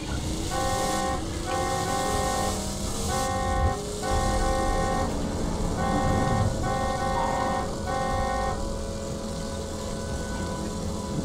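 A vehicle driven in the video game Borderlands 2, its horn honking in a rhythmic series of repeated toots over a continuous engine rumble.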